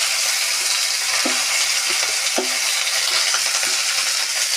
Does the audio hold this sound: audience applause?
no